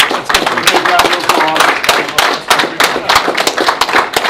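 Audience applause and clapping at the 2023 United States National Snooker Championship finals, a dense, steady patter of many hands filling the room for several seconds, with sharp individual claps standing out.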